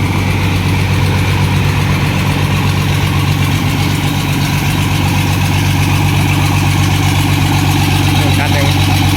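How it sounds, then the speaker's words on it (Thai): A water pump engine runs loud and steady at a nearby excavator work site, a continuous low droning rumble with no clear change in pace throughout. "เสียงเครื่องสูบน้ำซิ่งนะครับ"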